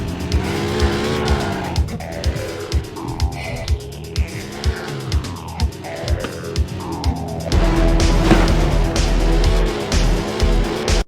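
Haunted car engine in a PS1 video game, repeated revving surges with squealing tires and skids, loud and close, ending in a denser burst of engine roar.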